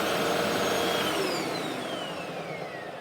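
Pet wind tunnel vacuum cleaner running steadily on its own, a continuous loud whirring whine with a faint falling tone, no talking.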